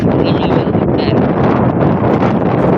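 Strong wind roars and buffets the microphone in a loud, constant rush with no break.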